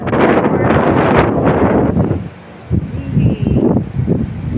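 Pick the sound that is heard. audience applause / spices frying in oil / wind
wind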